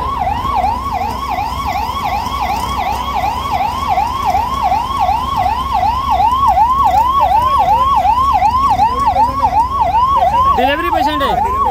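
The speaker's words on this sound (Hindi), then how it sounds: "ये एम्बुलेंस है, ये एम्बुलेंस है। और एम्बुलेंस के लिए भी कोई रास्ता नहीं दे रहा" A wailing ambulance siren stuck in a traffic jam in Bhiwandi, carrying a patient toward hospital. It cycles rapidly and steadily, loud and close for about ten seconds over a dense road rumble before cutting off.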